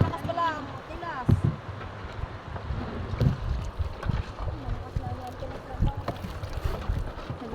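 A paddle works a small wooden outrigger boat on open water near Nakar, Quezon, with splashy, uneven strokes under gusting wind noise and occasional voices.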